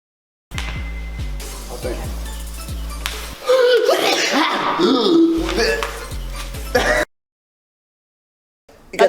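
A man gives a loud, explosive sneeze mid-clip, followed by slaps and laughter from people nearby, with talk and rhythmic thumps before it and silence at the end.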